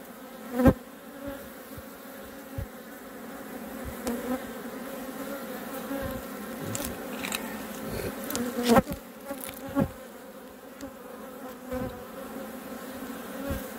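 Honeybees buzzing around a shaded hive in an apiary, a steady close swarm drone with occasional louder passes of individual bees near the microphone and faint clicks of hive handling.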